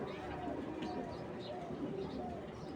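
Pigeons coo softly in a loft of Madrasi, Giribaz and racer pigeons, low repeated calls mixed into a steady noisy background with a faint voice present.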